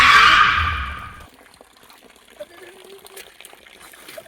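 A water tin tumbles and water gushes out in a loud splash that fades over about a second, followed by quiet trickles and faint drips.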